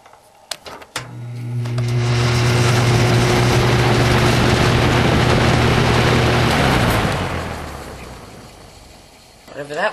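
A Toastmaster box fan starts up: a low electric hum with a steady drone swells into a loud, even whoosh of air, holds for several seconds, then fades; a few clicks sound at the start and end.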